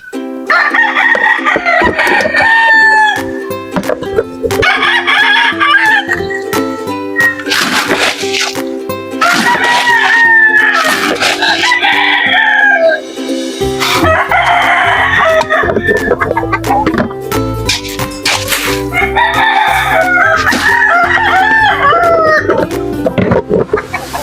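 Loud chickens clucking and roosters crowing close by at feeding time, with repeated drawn-out crows rising over constant clucking, backed by a steady mechanical hum.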